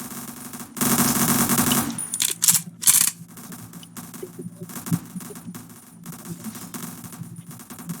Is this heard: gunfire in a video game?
yes